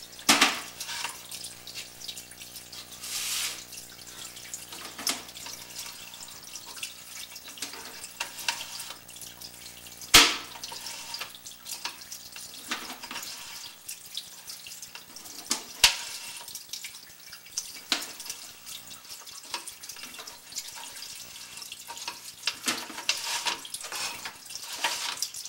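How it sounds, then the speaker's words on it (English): Water running steadily through a residential sewer line during a scope inspection, a continuous hollow trickle and splash with scattered drips and clicks, moderately close and alone without talk. "A steady stream of water allows me to visibly see the grade of the sewer"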